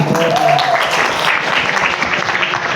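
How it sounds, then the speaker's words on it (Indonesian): An audience at a question-and-answer outreach session claps steadily and loudly for the whole stretch, dense applause with a brief voice heard near the start. "Ya, oke, tepuk tangan dulu ya."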